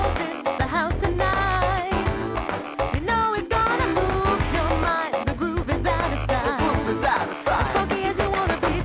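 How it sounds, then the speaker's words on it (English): Opening music of the Sega 32X video game Tempo plays, a busy, loud sampled tune with punchy bass and drum hits and bright melodic lines running continuously with no talking. "the opening of Tempo sounds like this"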